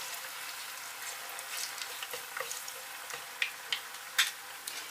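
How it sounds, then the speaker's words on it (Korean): Drained potatoes deep-fry in oil in a tilted pan, giving a soft, quiet sizzle broken by small pops and bubbling bursts. "물기 제거한 감자 넣겠습니다. 그러나 다 잠기지 않기 때문에 기울여서 튀깁니다."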